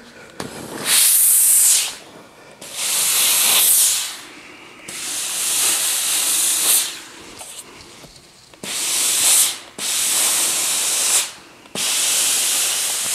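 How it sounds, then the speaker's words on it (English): A steam iron sends repeated loud hissing bursts of steam over quilt seams, each lasting one to two seconds with short pauses between, close up and with no talking. "This is getting steamed, so I don't want to stretch anything out. I'm just steaming over those seams."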